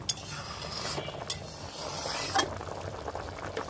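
A sarputi fish curry with mustard, green chilli, ginger and jackfruit seeds bubbles at a rolling boil in a pan, giving a steady close frothy simmer with a couple of brief clinks.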